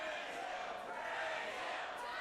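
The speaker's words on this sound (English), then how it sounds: "Now the crowd's behind REDSHAW." A wrestling crowd at an RCW event cheering and shouting for REDSHAW, a dense roar of voices that stays steady and loud, with a mix of reactions.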